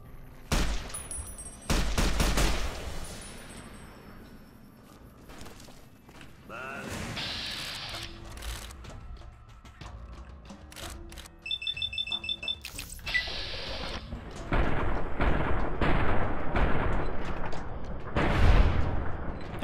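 Carbine gunfire in the video game Fallout New Vegas: sharp shots fired in scattered bursts, loud and close, with a denser cluster near the end, game tones and effects between them, and someone talking in the background.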